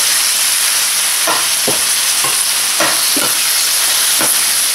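Lean beef flank being sautéed with softened onions in a pan: a loud, steady hissing sizzle broken by several scraping stirs of the spatula, up close with no voices.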